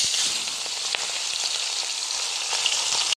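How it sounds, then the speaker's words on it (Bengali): Fish heads fry in hot oil in a wok on a gas stove for a moong dal dish, giving a loud, continuous sizzle with occasional small crackles and pops until it cuts off abruptly. "এখন আমি মাছের মাথাগুলো ভেজে নেব।"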